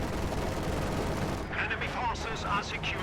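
Anti-tank guns firing in a multiplayer match of a World War II strategy game, a dense run of overlapping gunshot-like reports and rumbling blasts amid continuous battle noise, with a voice briefly audible beneath.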